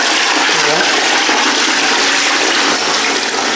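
A toilet flushes in a bathroom with a shower, a loud, steady rushing gush of water that runs the whole way through, close to the listener, with faint gurgles.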